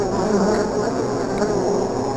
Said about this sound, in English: It's the bees.